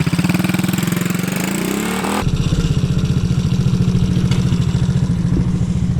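A 110cc pocket bike fitted with a cheap $15 carburettor idles close by, its small engine putting out a steady, fast, buzzing putter with a brief shift in tone partway through before settling into an even rhythm.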